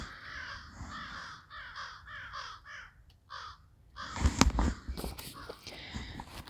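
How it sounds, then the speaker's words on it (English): Several crows caw in a forest, a run of harsh repeated calls at moderate distance for about three seconds, followed by rustling and crunching footsteps nearby. "I love crows. Beautiful, beautiful crows."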